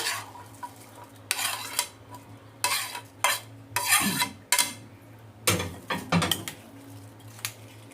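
A spoon stirs a chicken veggie salad with carrots and apple in a bowl, making intermittent bursts of scraping and clinking in irregular strokes. The sound is close and fairly quiet, with no talking.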